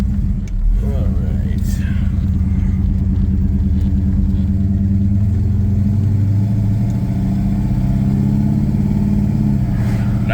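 A car engine with a stock torque converter rumbles steadily as the vehicle accelerates and cruises, with a person talking over the constant motor drone throughout.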